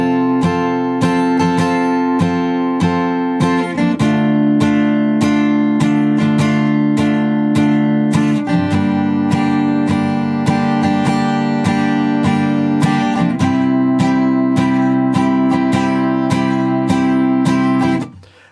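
Guitar strumming the chorus chords of a song, a steady rhythm of chord strokes with changes every few bars, played alone and fairly loud before ringing out at the end.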